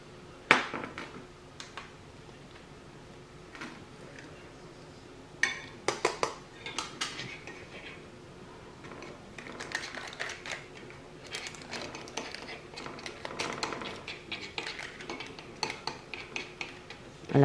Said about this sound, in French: je mets environ 10 grammes de verre de farine déshydratée que je vais mélanger avec mon chocolat